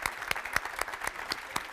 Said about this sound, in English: let's give Bård a round of applause and thank him for being here